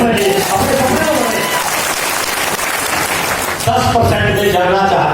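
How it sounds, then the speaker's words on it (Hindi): A seminar audience in Kishanganj bursts into loud, dense applause that fills the room, with a voice talking over the clapping at the start and again as it continues near the end. "एक बार तालियां बजाते हैं अपने सपने को।"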